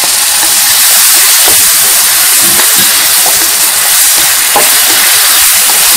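Beef dropped into a very hot wok over high flame for shaking beef (bò lúc lắc), giving a loud, steady hiss and sizzle that fills the whole stretch, with occasional crackles and no voice.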